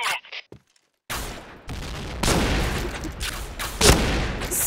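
In the shooter game Point Blank, a bomb explosion bursts after brief silence, followed by rolling gunfire and blasts that swell and crack in bursts, loud and continuous to the end.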